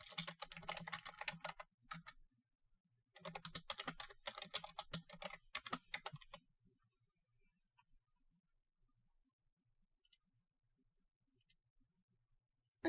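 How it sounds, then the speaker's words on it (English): A computer keyboard is typed on loudly during a login, in two dense bursts of rapid key clatter separated by a short pause, then near silence with a few faint stray clicks. "Sorry if my keyboard's loud."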